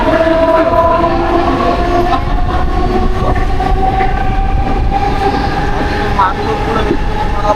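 A train rolls along steadily and loudly, with a continuous rumble, rattling wheels and sustained tonal screeching throughout, heard from close by.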